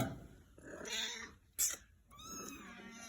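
A mother cat with her kittens gives a few close, drawn-out meows and wavering cries, with one sharp burst between them, in an otherwise quiet indoor space.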